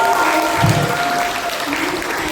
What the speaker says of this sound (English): Round of applause for our top performer 2025, Malkiah Cromwell.